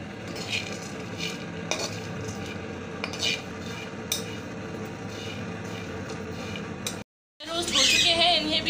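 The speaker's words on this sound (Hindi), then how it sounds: "तो जो हमारे ड्राई फ्रूट्स थे इनको भी हम ड्राई रोस्ट कर लेंगे" Dry fruits being dry roasted in a pan for winter date laddoos, with steady scraping and stirring against the metal and a few clinks of the spoon, close and continuous, broken by a brief gap before a louder burst of rattling.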